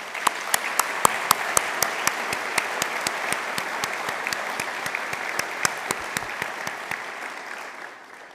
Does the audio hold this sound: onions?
no